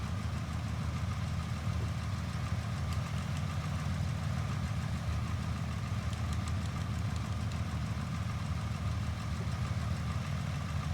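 A Cessna's horizontally opposed piston engine in Microsoft Flight Simulator X drones steadily at idle-like speed, a continuous low mechanical hum with faint knocking texture and no voices.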